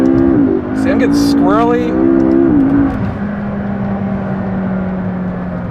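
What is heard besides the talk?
McLaren MP4-12C engine revving while driving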